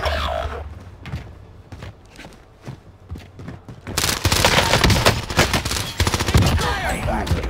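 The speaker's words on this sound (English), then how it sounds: "I missed all my shots." Heavy video game gunfire in a multiplayer shooter using the OTS 9: scattered shots first, then a loud, dense fusillade of rapid bursts and impacts taking over the second half, with a brief shout at the start.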